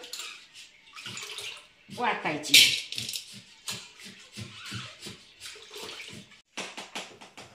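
Close splashing and swishing of water as chana dal is rinsed in a vessel, with rhythmic sloshes and a voice speaking briefly.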